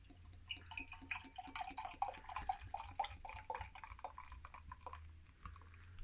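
Efes Pilsner, a 5% lager, is poured from a 500 ml bottle, giving a steady, bubbly gurgle and splash that runs for about six seconds over a low background hum.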